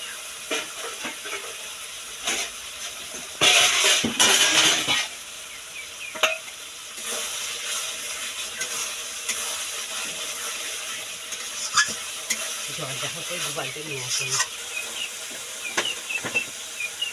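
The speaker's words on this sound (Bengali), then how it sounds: "মশলাটা কষিয়ে নেবে" Spice masala with yogurt being stir-fried for a thin Bengali mutton and potato curry: a steady hiss and sizzle in the pan, with a louder burst of scraping and spattering early on and occasional spoon clinks.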